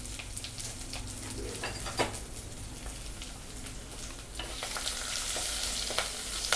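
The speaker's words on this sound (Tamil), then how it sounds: "தட்டி வச்ச வெங்காயம், தட்டி வச்ச பூண்டு இதையும் போட்டு நல்லா வதக்கிக்கலாம்" Crushed onion and garlic sauté in a pan over low heat, a steady close sizzle with occasional stirring scrapes, growing slightly brighter and louder toward the end.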